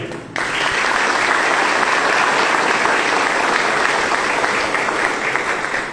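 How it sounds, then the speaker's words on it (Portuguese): A church audience applauds at the end of a lecture on preserving the family, a loud, dense, continuous clapping that starts suddenly and holds steadily, with no talking over it. "Irmãos, quem poderia aplaudir essa palestra?"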